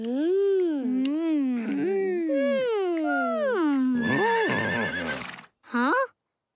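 A cartoon horse lets out a long, loud whinny with wavering, rising and falling pitch, then gives a second short neigh after a brief pause.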